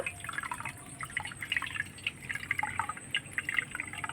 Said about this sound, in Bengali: এবার আমি জলটাকে ঝরে নেব এভাবে করে চিপে নেব